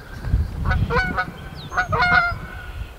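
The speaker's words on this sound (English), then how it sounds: "And there's some honkers." Several geese honk outdoors near a home vegetable garden in the morning, a few bursts of overlapping calls at moderate distance over low background rumble.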